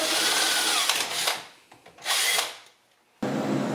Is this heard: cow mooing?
no